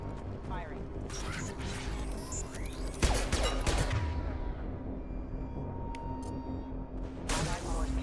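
Gunfire in Mass Effect 2, scattered bursts and a sharp impact near the three-second mark, mixed with mechanical clatter and steady background rumble, while radio-style voices call out combat reports.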